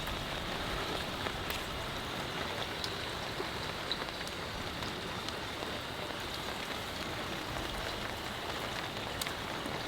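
Heavy rain drums steadily on a thatched house roof, a dense, even hiss with scattered drip sounds throughout and no voices.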